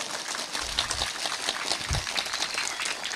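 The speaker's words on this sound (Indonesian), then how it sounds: "Lho tepuk tangan sing banter" Applause from an audience at an Islamic religious talk in Java, a steady patter of clapping running through the whole moment at moderate, somewhat distant level.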